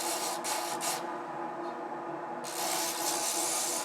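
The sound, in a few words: sanding a wooden spoon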